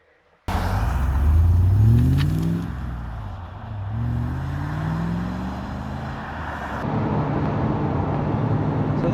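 A 2014 two-wheel-drive Toyota Hilux with a swapped-in Chevrolet LS2 V8 drones loudly in top gear up a hill, a deep steady engine rumble with rising and falling pitch sweeps as it pulls, continuous and close throughout.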